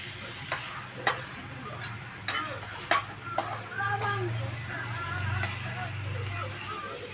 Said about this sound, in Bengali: হওয়ার পর এবার এঁচোড়টা ভালো করে কষে নেওয়া হচ্ছে।